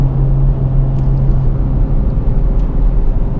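A 2018 Honda Civic Type R's engine drones steadily as it accelerates out of a corner, a loud, continuous low rumble with a sustained hum and no talk over it.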